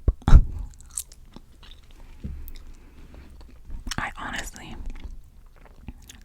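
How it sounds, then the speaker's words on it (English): Close-up gum chewing right at the microphone, with soft wet clicks, smacks and crunchy chomps scattered irregularly among whispered asides. "to gently chew this gum"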